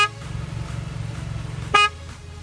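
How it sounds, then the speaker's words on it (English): A 2022 Vanderhall Venice sounds one short honk of its horn over a low idling engine rumble, fairly close and brief. "in case you want to know what the horn of the Vanderhall Venice sounds like"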